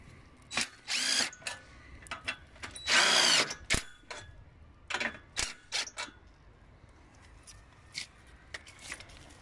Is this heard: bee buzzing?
no